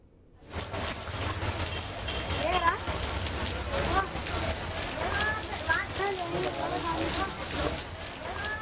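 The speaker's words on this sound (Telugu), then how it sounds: "హైదరాబాద్ లో మళ్లీ వర్షం మొదలైంది." Rain falling in Hyderabad during a heavy downpour, a steady broadband hiss that continues throughout under a person talking.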